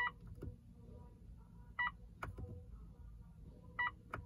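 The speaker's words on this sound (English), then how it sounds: "Push and hold it, it'll beep." Maintenance light setting on a Mitsubishi Outlander dashboard gives short electronic beeps, three spaced chirps heard close over a low steady cabin hum.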